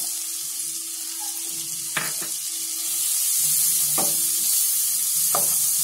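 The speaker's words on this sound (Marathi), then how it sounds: "कांदा चांगला फ्राय करून घ्यायचा।" Onion frying in butter in a pan for tomato soup: a constant high sizzle with three separate stirring scrapes, one every couple of seconds, and the sizzle swells slightly louder midway. There is no talking.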